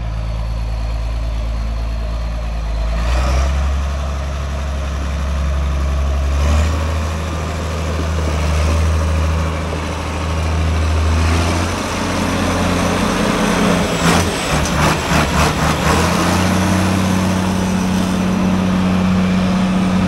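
A John Deere 4230 tractor hitched to a box blade runs with a steady low engine drone that shifts pitch slightly as it works, loud and continuous with no talk.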